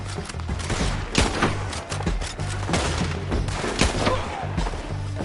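Dense gunfire during a shootout in Red Dead Redemption 2, with rapid overlapping shots cracking close and loud over a rumbling background in a continuous barrage.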